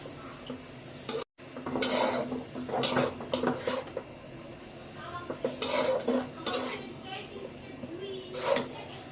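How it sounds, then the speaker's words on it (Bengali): Spring roll filling being stirred with tomato ketchup in a pan, a metal utensil scraping and clinking against the pan in uneven bursts over a faint sizzle, with a voice speaking at times. "টমেটো কেচাপ এগুলো দিয়ে ভালো মতো করে নেড়ে চেড়ে নিব।"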